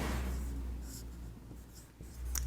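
Soft scratching of writing on a board during a chemistry lecture, faint strokes over a low room hum, with no talking.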